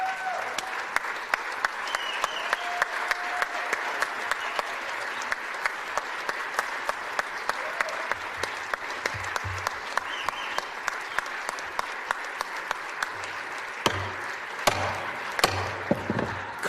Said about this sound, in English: let's give another round of applause for Tommy Thompson